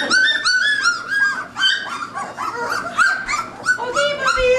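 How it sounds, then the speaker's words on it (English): Young puppies whimper and yip again and again in high, thin cries, close and fairly loud, with only a little human talk in the background. "Okay, puppies."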